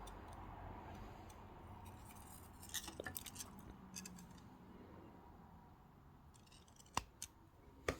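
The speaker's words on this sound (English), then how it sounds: "So where the wires cross, I'm going to give it just a little bit of length and cut that wire." Jewelry wire for wire-wrap earrings is snipped with cutters, producing a few faint, sharp clicking snips near the end amid quiet handling noise.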